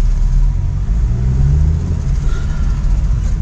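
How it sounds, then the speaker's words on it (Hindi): Steady low road rumble and engine drone fill the cabin of a car travelling to Hadsar village on the Mani Mahesh yatra route, loud and continuous with no talk. "हम लोग गाड़ी में सफ़र कर रहे हैं"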